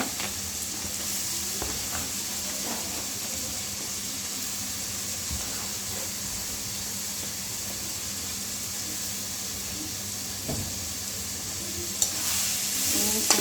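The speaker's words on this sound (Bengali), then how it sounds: "এবার পেঁয়াজটা ভালো করে ভেজে নেব। একসাথে আমি আলু কুচিটা দিয়ে দেবো, পেঁয়াজের সঙ্গে আমি ভেজে নেব।" Onions and chopped potatoes fry together in a pan, making an even, close hissing sizzle with soft stirring scrapes throughout and a few louder clatters near the end.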